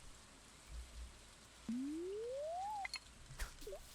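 Soft, steady rain patters in the background in the video game Stardew Valley while a clear electronic tone slides upward for about a second, followed by a few small clicks.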